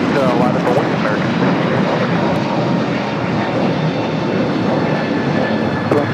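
An American Airlines jet takes off from runway 25 right at LAX, its engines giving a loud, sustained roar throughout, while air traffic radio talk runs underneath.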